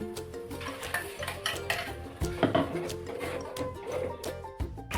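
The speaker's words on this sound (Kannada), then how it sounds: "ಇವಾಗ ಚೆನ್ನಾಗಿ ಸ್ವಲ್ಪ ಫ್ರೈ ಮಾಡಿ ನಾವು ಅವಾಗಲೇ ರುಬ್ಬಿಟ್ಕೊಂಡಿದ್ನಲ್ಲ ಆ ಮಸಾಲೆ ಹಾಕ್ತಾ ಇದ್ದೀನಿ" Onions and ground masala fry in oil for egg biryani under a soft sizzle, with a spoon scraping and clinking against the pan in an uneven rhythm, close and moderately quiet.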